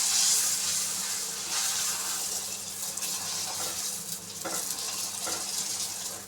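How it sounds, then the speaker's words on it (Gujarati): Puri dough frying in hot oil gives a continuous, fairly loud sizzle and hiss with occasional crackling bursts as it bubbles. No one speaks. "પૂરીને ગરમ તેલમાં તળી લેવાની."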